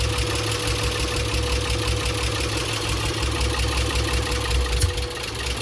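Acura Legend coupe engine idling after sitting for over three years, a steady close drone with persistent valve ticking running throughout.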